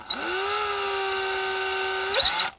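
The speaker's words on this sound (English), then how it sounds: "if you go through with a long drill bit and you get a little crazy and you push down, you're going to drill it right into the motherboard" Power drill boring into a Wyze Cam V2 camera housing with a long drill bit, one steady whine held for about two seconds, then a brief pitch rise and abrupt stop, close and loud.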